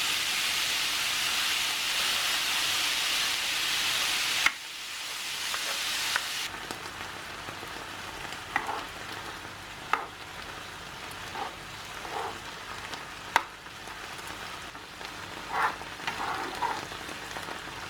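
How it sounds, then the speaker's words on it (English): Ground beef with onion and garlic sizzling in coconut oil in a frying pan, a soft steady hiss under a louder noise burst at the start, then quieter frying with occasional light pops and clicks. "the meat is browning behind me and sizzling away"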